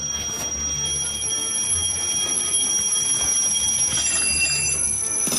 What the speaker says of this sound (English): once you've turned the first alarm on, you have 3 seconds to get back to bed